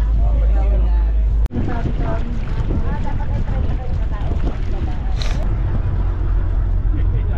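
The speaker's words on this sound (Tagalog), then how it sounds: "Alis na yung bangka." A boat engine rumbles steadily on a departing boat with heavy wind buffeting the microphone, a brief knock near the start, and voices talking loosely over the noise.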